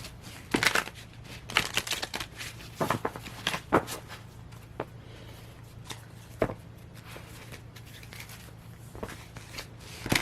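Tarot cards are shuffled by hand in quiet bursts of soft riffling and tapping, close and faint, with pauses between shuffles.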